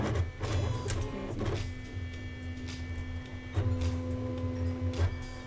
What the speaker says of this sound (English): I'm watching the other side of the printer, the back side, and I can see it moving around.